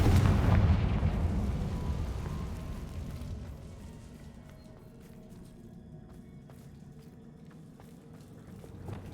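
A Confringo fire spell blasts off in Hogwarts Legacy, a loud booming explosion at the start that rumbles and fades into a low lingering roar with scattered faint crackles.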